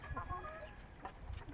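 A young Rhode Island Red rooster about four months old gives a few short, low clucks close by, quiet and soft.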